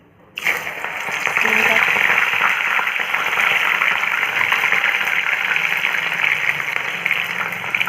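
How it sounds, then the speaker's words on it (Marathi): Hot oil hisses and crackles steadily as cornflour-coated sweetcorn fries. The bright, dense sizzle starts abruptly and stays loud and continuous throughout. "आता याला आपण तळून घेऊया"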